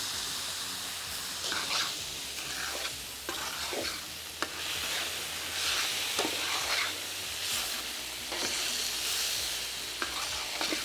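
A pan of paella sizzles steadily while a spoon stirs through it, with repeated scraping strokes and bursts of hissing spread across the whole stretch, close and fairly loud, no voices.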